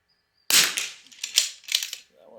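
A Bergara B14R rifle fires a single loud, sharp shot at a target, its blast and echo decaying over about a second, with a few softer knocks and faint noise after.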